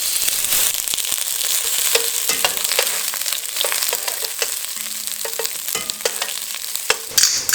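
Onions sizzle steadily in hot extra virgin olive oil, with repeated scraping stirs through a continuous crackling fry for a potato-carrot duck stew; close and fairly loud, with no talking.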